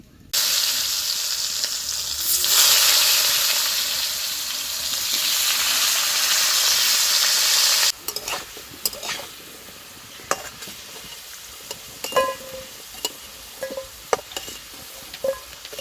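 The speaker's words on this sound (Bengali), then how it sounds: "মাছ ভাজা তেলের ওপর আলুগুলো ভেজে নেব" Potato pieces fry in the oil left from frying tangra fish, a loud, close, continuous sizzle for about eight seconds, then quieter bubbling broken by sharp spatula scrapes and knocks as they are stirred.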